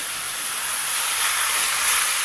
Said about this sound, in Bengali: এবার আমি ডালটাকে ফোড়নের মধ্যে ঢেলে দিলাম